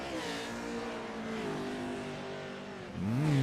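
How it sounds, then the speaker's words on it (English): A race car engine revs during a motorsports race, a sustained high, buzzing engine note with shifting pitch that climbs sharply at the end as the car accelerates, loud and near with no talk. "Did you hear that engine just singing, man?"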